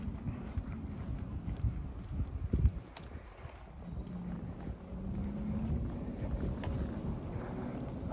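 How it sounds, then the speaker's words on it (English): Wind rushes steadily past the microphone on a Toronto residential street, a low broadband rumble that swells slightly partway through, with faint outdoor ambience and no talking. "Oh, and now the wind is picking up."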